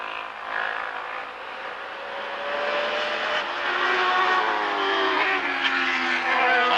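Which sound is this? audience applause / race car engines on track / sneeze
race car engines on track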